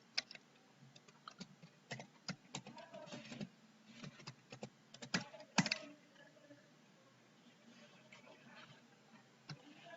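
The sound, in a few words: typing on computer keyboard in terminal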